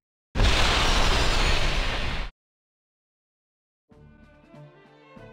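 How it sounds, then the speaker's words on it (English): A grenade thrown in an Atelier Ryza video game cutscene goes off as a single, loud, roaring explosion lasting about two seconds. It cuts to silence before soft background music begins. "the cutscene saved the day with these 2 characters who literally throw a grenade to blow it up"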